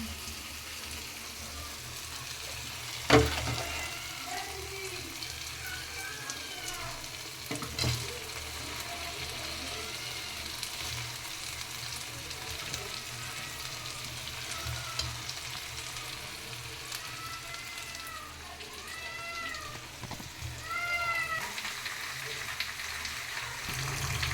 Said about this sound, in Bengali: এখন আমি দিয়ে দেব মাংসগুলো